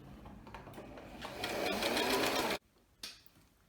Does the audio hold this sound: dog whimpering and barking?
no